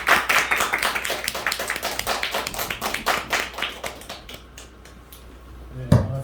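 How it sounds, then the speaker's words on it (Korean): Audience applause welcoming a speaker at a church Saturday gathering: many hands clapping in a dense crowd that thins out toward the end, followed by a single sharp knock. "나오실 때 우리가 큰 박수로 환영했으면 좋겠습니다."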